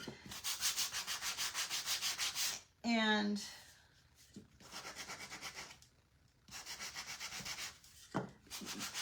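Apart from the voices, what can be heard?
sanding edges with sanding tool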